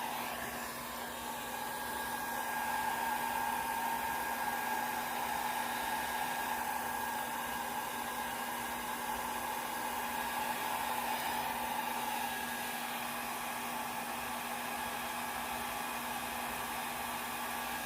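A hair dryer blowing on an alcohol ink painting, a loud steady whirring hum with a constant tone that runs unbroken for the whole stretch, close to the mic, with no voices.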